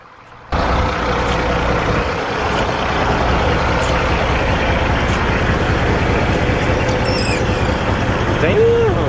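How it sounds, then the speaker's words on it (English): A Freightliner Classic truck's diesel engine starts up and runs loud and steady nearby, with a brief hiss like an air brake release near the end. "So now let's go move my brother's truck over here to the side."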